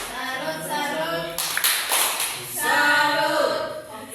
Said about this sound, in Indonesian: silakan tepuk salut dulu untuk teman kita ini